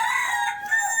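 A desi rooster crowing on a poultry farm with parent hens nearby, a single clear close crow filling the whole short moment.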